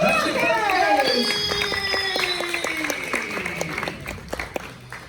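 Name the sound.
applause from audience at makeup show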